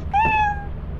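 A single cat meow from a creature in the co-op horror video game Lethal Company, a bright, drawn-out cry that rises then trails off, clear and close over a low background rumble.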